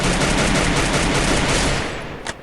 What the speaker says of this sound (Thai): ผมจะดักยิงเลยฮะ ยิง